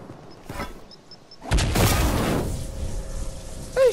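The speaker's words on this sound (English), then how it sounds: "What are you shooting at me, boy?" Fortnite gunfire: a few light shots and clicks, then a loud dense burst of shooting that trails off into rumbling noise, with a short sharp sound at the end.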